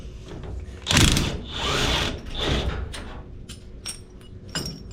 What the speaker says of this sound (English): first step, I got to get this shock out of the way so I can adjust the chain.